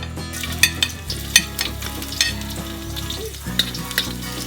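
Garlic sizzling in a hot pan for sautéed bean sprouts with ground pork, a continuous frying hiss punctuated by sharp scraping and clinking strokes of a utensil against the pan.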